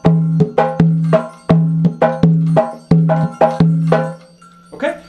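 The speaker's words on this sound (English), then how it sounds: "really with the iya player just playing its part" Iya, the largest bata drum, plays its part of the Ochosi rhythm alone: a steady loop of sharp, ringing strokes with a deep resonant tone, repeating in a clear pattern before trailing off near the end.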